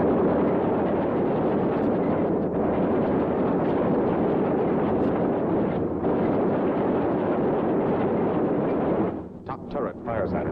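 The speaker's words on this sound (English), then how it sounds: "Top turret fires at him." B-17 Flying Fortress Memphis Belle top turret machine gun firing at an attacking fighter during a bombing run, rapid fire buried in a loud, constant roar of engines and wind from inside the aircraft, with a voice speaking near the end.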